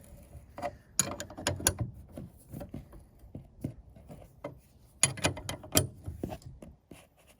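Ratcheting clicks from a wrench tightening a bolt on a truck mirror, irregular bursts of close mechanical clicking with pauses between strokes.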